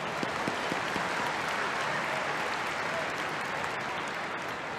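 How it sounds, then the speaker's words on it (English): Warm applause from the crowd at a women's international football friendly between Australia and Canada, a steady wash of clapping from a large stadium audience lasting throughout. "with warm applause"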